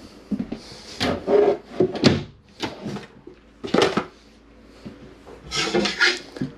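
RV doors and drawers being shut and secured for travel in a Flagstaff 26 FKBS trailer: a run of several close wooden thumps and latch clacks at uneven intervals, with brief quiet gaps between them.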